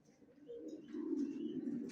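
Racer pigeon chicks, big-bodied down-shaped youngsters, coo softly in a low, continuous murmur that swells louder after the first second, with faint chirps above and no talking.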